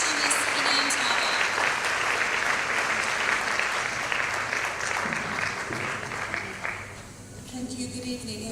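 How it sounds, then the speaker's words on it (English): A dinner audience at a women's faith event gives sustained applause for a speaker, a loud, dense wash of many clapping hands lasting several seconds before fading out as a voice begins. "Ladies, I think this woman deserves a big round of applause."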